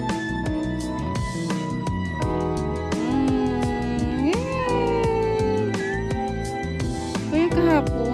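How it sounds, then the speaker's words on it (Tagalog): A cat meows several times outdoors in a Middle East setting, with drawn-out rising calls standing out against a steady, busy background hum. "Ganda na pusa nito."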